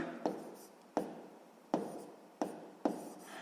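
Pen or marker strokes writing out a sixth-grade math solution, five sharp scratchy bursts at uneven intervals, close and fairly quiet with no talk.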